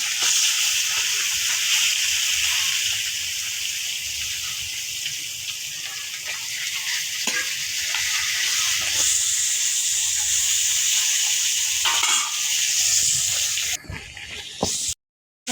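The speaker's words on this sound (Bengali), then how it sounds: "এখন মাছ ভাজি দিয়ে দিবে, মাছ ভাজি করার জন্য" Tilapia fish frying in hot oil in a pan, a loud steady sizzling hiss that lasts throughout and cuts off abruptly at the end.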